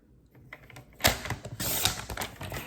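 Scissors or a trimmer cut a one-inch paper strip in half for a DIY paper gift bag, a short close crisp cutting sound after faint handling noises.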